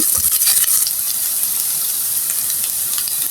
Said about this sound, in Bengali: পেঁয়াজগুলি আমি ভালো করে নেড়ে চেড়ে ভেজে নিচ্ছি